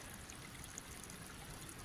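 Water runs out of a mountainside hill into freshly dug trenches on a homestead, giving a steady, soft trickling and gurgling wash with no breaks, faint and even throughout.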